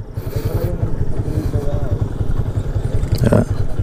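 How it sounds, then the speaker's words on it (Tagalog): A Yamaha Sniper 150 motorcycle engine idles with a steady, rapid putter, close by, while a voice talks over it. "So yan yung motor ni Babab"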